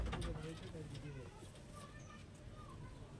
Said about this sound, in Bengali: কালা সবুজ পায়রা শখ করাচ্ছে, কালা সবুজ শখ করো, একদম বিগ সাইজের পায়রা আছে